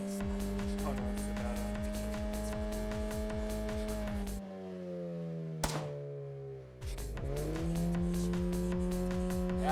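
Video game car engine from Solo Drive Beyond Horizons, a loud steady drone with rapid rhythmic pulsing, cutting out briefly midway with a sharp thud before revving back up.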